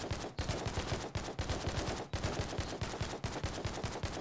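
Rapid automatic gunfire in the video game Siege Worlds, a relentless stream of sharp, punchy shots with only brief gaps between bursts, loud and close with no voices over it.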